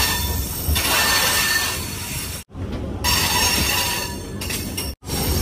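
A MEMU Express passenger train pulling out of Vijayawada station, a loud steady rumble of wheels on rails with squealing metal, cut by two brief silent gaps.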